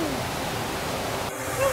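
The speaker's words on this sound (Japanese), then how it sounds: "あ、この水の音いいですね。" A mountain stream near a waterfall in steep mountains, with water rushing continuously in a dense, loud, close wash of noise, alone.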